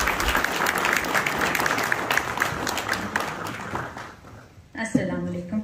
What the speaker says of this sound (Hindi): भरपूर तालियों में हिना बतूल साहिबा